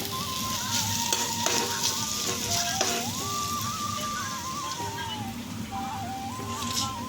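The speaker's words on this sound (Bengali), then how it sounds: "কয়েকটা আলু ভেজে দিচ্ছি, তো শুকনো লঙ্কা দিয়ে" Potatoes frying with dried red chillies in a village kitchen, a continuous close sizzle with occasional stirring clatter, while a faint tonal whine wavers in the background.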